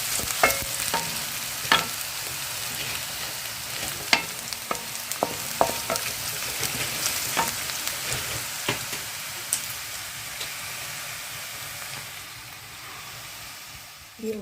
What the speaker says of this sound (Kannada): ಒಂದು ಒಗ್ಗರಣೆಯನ್ನು ಮಾಡಿಕೊಳ್ಬೇಕು